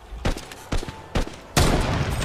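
Cannon blast in the video game Fortnite: a loud broadband boom at the end after several short sharp game impacts, with no talk.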